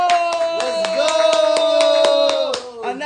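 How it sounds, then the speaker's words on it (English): A crowd claps and cheers for a guest comedian and entertainer, steady applause filling the room with loud rhythmic hand claps and tonal music layered underneath, fading near the end. "Clap it up for my nigga, boy, please"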